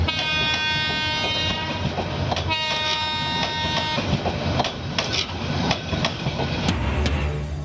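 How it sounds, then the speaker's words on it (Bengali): A passenger train running along the track, with a sustained rumble and clatter, a steady high tonal squeal or horn-like hum, and sharp metallic clicks near the end, heard close and loud with no talk. "স্বাস্থ্যবিধি মেনেই চলছে ট্রেন"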